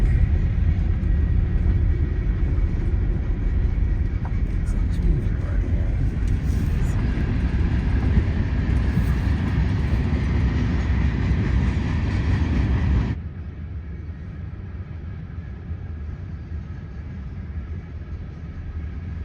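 A loud, rumbling freight train rolls past close by for a long stretch. The noise then drops abruptly to a quieter background hum.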